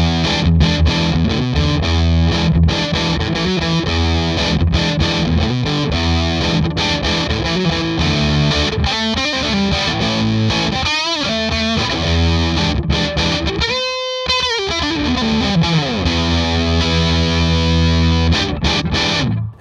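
Distorted Gibson Les Paul Standard through a Gibson Super Goldtone GA-30RV amp and a Celestion Creamback speaker gives loud, sustained crunchy chords and riffs with a short pause partway through, played alone without talk.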